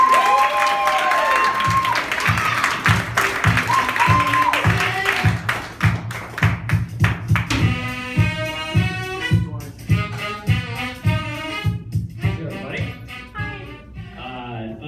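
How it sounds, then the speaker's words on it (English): Audience applause for a comedian at a comedy festival show, a dense burst of clapping for the first few seconds that gives way to music. "let's give him a round of applause"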